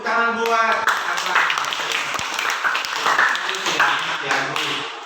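A classroom of students clapping their hands together, dense applause lasting several seconds, with a voice heard briefly at the start.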